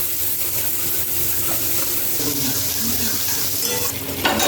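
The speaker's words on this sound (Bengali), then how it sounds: "এরপর আমি ওই কড়াইতে তেল দিয়ে কাঁঠালের বা ইঁচড়ের তরকারিটা করে নেব।" Green jackfruit curry fries in oil in a wok, a continuous close sizzle with irregular scraping from stirring and no talking.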